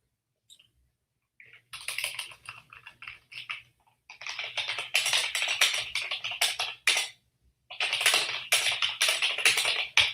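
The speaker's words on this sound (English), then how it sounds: "Sorry, I am typing." Someone types on a computer keyboard in rapid bursts of clicky keystrokes, pausing briefly between flurries, close and fairly quiet with no talking.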